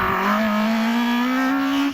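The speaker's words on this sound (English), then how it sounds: "Ralph Pinder heading towards Farmhouse Bend in the Peugeot 205" A Peugeot 205 GTI race car climbs a hillclimb course toward a bend, its engine note droning steadily and rising in pitch as it accelerates hard, loud and close throughout.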